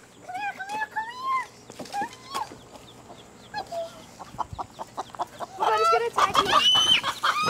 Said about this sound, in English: The chicken is mad.